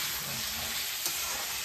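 Steady, loud sizzling of food frying in a pan, a continuous close hiss filling the whole moment with no talk.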